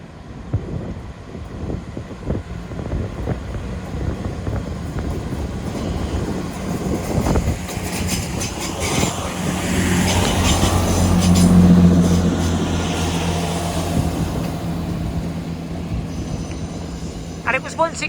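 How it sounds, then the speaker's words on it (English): A Great Western Railway train on the Weston-super-Mare to Severn Beach service rumbles past with clattering wheels, swelling to a loud roar midway before easing off, with wind buffeting throughout. "Following on now is the 1645 Great Western Railway service from Weston-super-Mare to Severn Beach."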